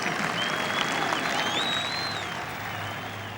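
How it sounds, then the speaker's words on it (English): A large golf gallery cheers and applauds at the 18th hole during the final round of the 130th Open Championship, a dense, loud, sustained roar of clapping that eases slightly toward the end. "Big cheer just putting Duval off at the 18th."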